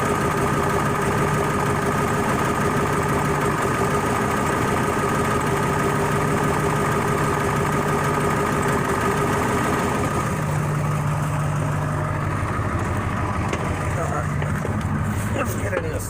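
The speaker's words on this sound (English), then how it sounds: "Here's another sound of the motor." A Ford 7.3 diesel truck engine idles steadily close by, a continuous low rumble with an even mechanical hum that holds for the whole stretch with no voices over it.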